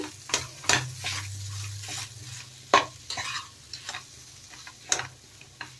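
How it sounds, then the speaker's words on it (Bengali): A spoon mixing mashed boiled potato into bread pakoda filling in a pan, with scraping strokes and soft clicks at an irregular pace, close up and with no talking. "এখন একটু ভালোভাবে মিশিয়ে নেব"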